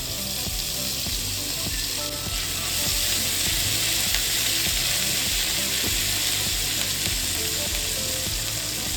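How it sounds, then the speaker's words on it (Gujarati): Steady, loud sizzling of ginger and chillies sautéing in hot oil, continuous throughout with occasional stirring clatter and no talking. "બે મિનિટ બધું સતરાઈ જાય"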